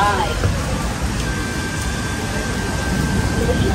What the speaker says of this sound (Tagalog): Grabe, inabutan ako ng ulan.